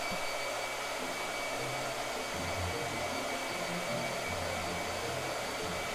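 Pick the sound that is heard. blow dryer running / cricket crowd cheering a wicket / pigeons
blow dryer running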